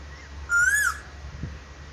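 A single clear, whistled bird call in a village fruit orchard among pomegranate trees, rising then falling over half a second against faint background hum.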